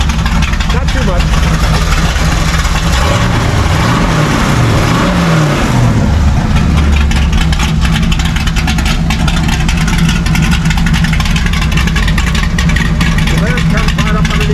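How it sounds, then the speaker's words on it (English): A gasser car engine revs loud and close with its exhaust cutouts open, a thick rumbling growl with a brief rise in pitch before settling back toward idle. "And now we have the exhaust cutouts. Just a little rev."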